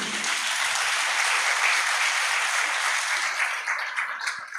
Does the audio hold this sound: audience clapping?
yes